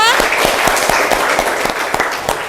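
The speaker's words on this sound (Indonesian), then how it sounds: "Oke, tepuk tangan untuk teman kita." Students applaud a classmate during an informatics lesson in a classroom: brisk, loud clapping with distinct rhythmic claps standing out through the texture, and a brief voice at the start.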